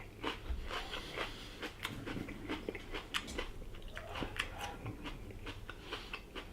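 Someone bites into and chews a large, heavy Aji Dulce sweet pepper, producing close, quiet crunches and wet chewing clicks in an irregular rhythm with no talking.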